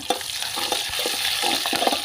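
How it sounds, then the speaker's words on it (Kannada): Green chillies fry in oil for a tempering, with a steady hiss of sizzling and a few scraping stirs of a spoon in the pan. "ಮೆಣಸಿನ್ಕಾಯಿ ಹಸಿರು ಮೆಣಸಿನ್ಕಾಯಿನ ಹಾಕೊಂಡಿದ್ದೀವಿ ಫ್ರೈಗೋಸ್ಕರ"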